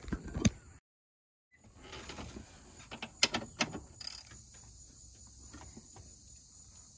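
Ratchet wrench turning a bolt on a New Holland L160 skid loader, giving quiet clusters of sharp clicks at close range after a brief pause, with a steady high insect-like whine running underneath and no talking.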